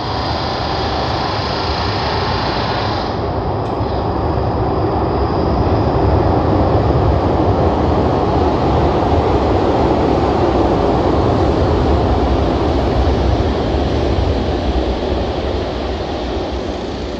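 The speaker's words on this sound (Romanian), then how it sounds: "Haideți că mai vine un tren de călători." Double-decker passenger train crossing the Anghel Saligny railway bridge at Cernavodă, a steady loud broadband rumble and rattle sustained throughout with a slight swell midway, no talking.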